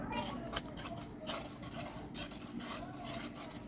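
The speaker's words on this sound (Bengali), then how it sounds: "এটাকে নাড়তে থাকবো, ধীরে ধীরে এটা আঠালো হয়ে যাবে।" A pumpkin laddu mixture with milk powder is stirred in a pan on the stove, giving repeated irregular scraping and rubbing strokes at close range that continue steadily throughout.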